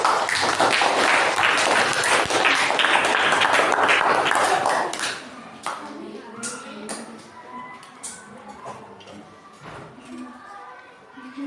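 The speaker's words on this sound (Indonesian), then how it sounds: "Kasih tepuk tangan dulu" A group of teachers in an academic supervision coaching session claps as a group comes forward to present, loud dense clapping for about five seconds that then breaks off into scattered taps, shuffling and quiet voices.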